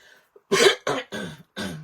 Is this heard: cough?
yes